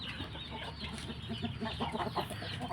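Young cockerels in a Khon Kaen farmyard clucking softly and intermittently at a distance, faint against steady outdoor background noise.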